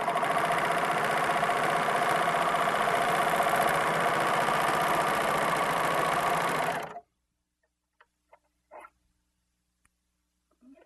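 A serger stitches a rolled hem along a fabric edge, a steady loud close-up mechanical whir for about seven seconds that stops abruptly, followed by a few faint brief clicks.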